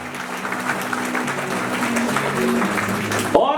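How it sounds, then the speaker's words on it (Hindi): Audience applause at a political campaign event in Mumbai, a steady, dense wash of clapping from a crowd that continues throughout, moderately loud and without talk. "और तालियां होनी चाहिए जरा जोरदार गड़गड़ाती हुई।"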